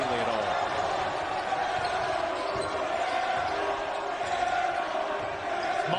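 A Montverde high school basketball crowd roars steadily throughout a game, dense cheering and shouting filling the space with sneaker squeaks and ball bounces faintly underneath, while a commentator talks over the noise.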